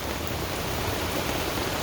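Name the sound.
rain falling at tent campsite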